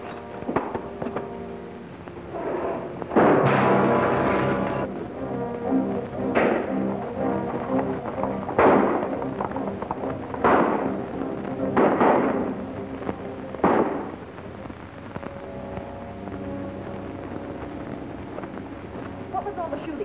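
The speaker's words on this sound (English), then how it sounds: "What was all the shooting?" Gunshots ring out in a western film shootout, a series of loud sharp bangs spaced several seconds apart over background film sound and music, with speech faintly mixed in.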